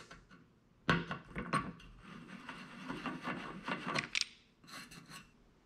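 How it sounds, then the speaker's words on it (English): A hand chamfer tool deburring freshly drilled holes in metal, rasping and scraping strokes in short bursts close by, with light metallic clinks and no talk. "Now I just get to go and deburr every single hole I just drilled."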